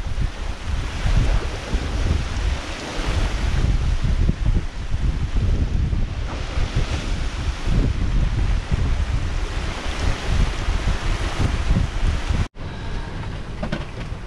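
Strong wind and heavy waves at sea aboard a sailing boat in a 25-knot squall, a loud continuous roar of gusts and surging water close to the microphone, broken by a brief cut near the end.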